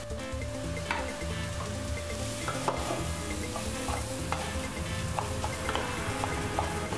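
Fried vegetables are stirred with a spatula in a hot pan for a veg Mughlai paratha filling, giving a steady close sizzle broken by repeated scraping clicks of the spatula against the pan.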